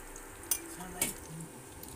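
Bora fritters frying in hot oil in a home kitchen, a steady soft sizzle broken by two sharp utensil clinks against the pan.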